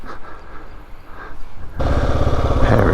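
A motorcycle engine idles nearby, a low steady rumble that becomes noticeably louder and fuller partway through.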